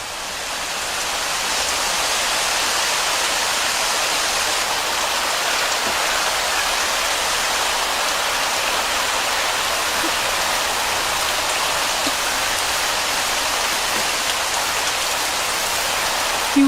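Steady, dense rainfall pours down continuously, a loud wash of drops with no other sounds standing out.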